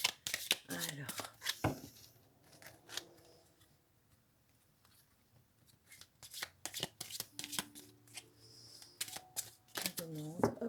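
Thick tarot cards being shuffled and drawn, with repeated close riffling bursts and snappy card flicks, interleaved with someone speaking.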